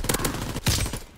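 Rapid automatic gunfire in a video game shooter, a dense close burst of shots with a heavier blast just past the midpoint, with no voices over it.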